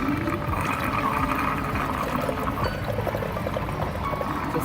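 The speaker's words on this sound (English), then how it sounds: "Now I'm going to drain out the distilled water and coolant mixture." A mix of distilled water and coolant drains steadily from a Triumph Street Triple motorcycle, a continuous soft pouring stream with no pauses and no talk.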